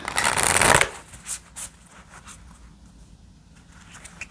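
An oracle card deck is shuffled in one loud, riffling burst lasting under a second, followed by a few soft card taps and handling sounds in a quiet room.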